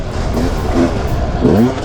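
A Sherco 300 enduro motorcycle engine revs up and down in short bursts, rising whines over a rough rumble, with a voice faintly mixed in.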